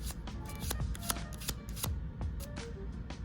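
A deck of playing cards is given an overhand shuffle, a rapid run of crisp, close slaps and riffling flicks in an uneven rhythm, continuous and fairly loud with no talk.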